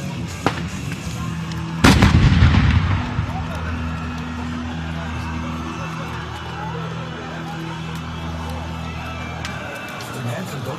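Carbide shooting at New Year's Eve in Lemelerveld, Overijssel, with one big, deep cannon blast near the start that rumbles and fades, while people talk and an outdoor crowd murmurs.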